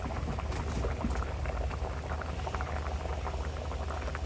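A pot of moong dal curry with rohu fish head simmers steadily, a continuous low bubbling and soft popping up close with no talking.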